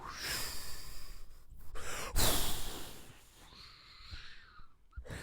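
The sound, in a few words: voice imitating wind blowing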